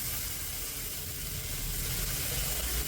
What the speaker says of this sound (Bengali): এখন এই তেলের মধ্যে দিয়ে দেবো জল।